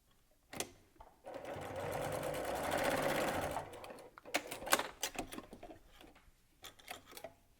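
A sewing machine back stitching faux leather for a fringe purse, running in a sustained burst, then several short clattering stitch bursts with brief pauses, close and without talk.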